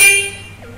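A single short horn blast from a Bajaj Pulsar N250 motorcycle, loud and close, fading quickly after the initial beep.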